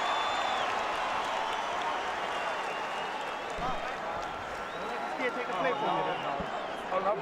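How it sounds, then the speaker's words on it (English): A large boxing arena crowd at Pernell Whitaker vs Oscar De La Hoya roars and applauds as the bell ends the second round, a broad sustained wash of cheering with a commentator talking over it. "a very big crowd in favor of Oscar De La Hoya as the bell ends the second round"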